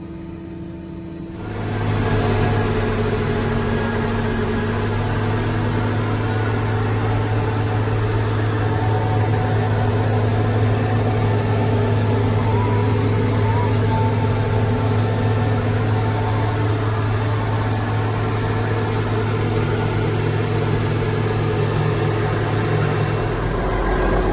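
Farm tractor engine drones loud and steady in a field at harvest time, a constant low hum with a steady tonal whine and no talking.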